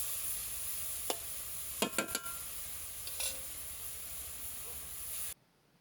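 Tender radish greens stir-frying in a pan as the water cooks off, a constant hissing sizzle with a few quick utensil scrapes and clinks, ending abruptly.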